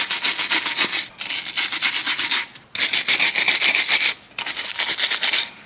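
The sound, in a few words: cleaning brake pad guide surfaces, VW T-Cross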